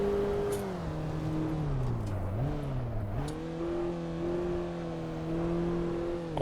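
Engine of a Mazda MX-5 in the racing game Assetto Corsa on the Akina mountain pass, a steady droning tone that dips and climbs with gear changes and throttle, loud and continuous.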